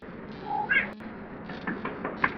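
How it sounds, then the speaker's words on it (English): A cat is patted rhythmically on the back like bongos, producing soft muffled thumps in an uneven beat, with a short meow near the start; close and fairly quiet, no talking. "I hear myself giving my cat a back bongos."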